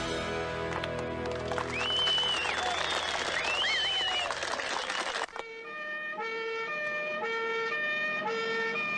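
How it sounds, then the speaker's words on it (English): A two-tone European police siren alternates in a steady repeating pattern. It starts after a few seconds of loud, noisy crowd-like sound that cuts off abruptly, then continues clearly and fairly loud to the end. "Generic European police siren."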